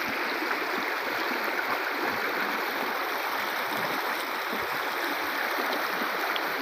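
A mountain stream rushes down between large stones at Bichanakandi in Sylhet, a steady, close, full-bodied wash of flowing water that continues without pause and with no voices.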